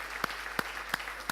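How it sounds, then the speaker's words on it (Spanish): A church congregation claps in a slow, steady rhythm during a worship service, with a few evenly spaced, sharp hand claps over a soft background hum. "lo aplaudimos al Señor"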